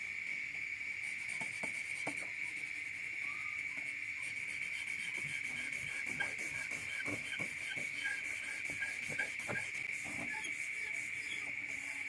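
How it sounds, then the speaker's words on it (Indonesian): Soft, repeated rubbing strokes of sandpaper scrape irregularly under a steady, high-pitched insect drone in the background. "Ini amplas kita pakai amplas."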